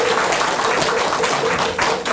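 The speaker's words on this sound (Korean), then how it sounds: "박수 한번 부탁드릴게요" Dense applause from a temple congregation at a Buddhist ceremony in Korea, a steady wash of many hands clapping together, close and full, with no talk over it for the couple of seconds it lasts.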